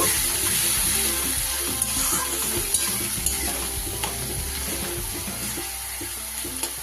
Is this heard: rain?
no